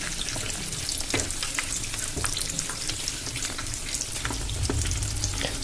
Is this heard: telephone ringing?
no